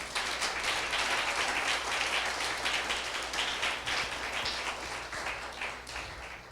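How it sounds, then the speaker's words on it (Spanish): A church congregation applauds during a sermon, a dense, steady wash of many hands clapping that holds throughout and eases off slightly near the end. "¿Cuántos le dan un aplauso al Señor por eso?"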